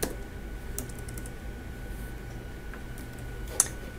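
Typing on a computer keyboard while indenting code with the tab key: a quiet, scattered run of light key clicks with one sharper tap near the end, close and alone.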